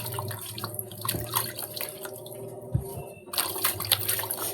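Tap water running into a sink while dishes are washed, with a steady faint trickle and splashing, broken by occasional clinks and knocks.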